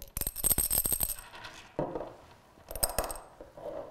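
Small hard ceramic beads rattling and clinking inside a bottle in quick bursts, then a few scattered rattles after a pause.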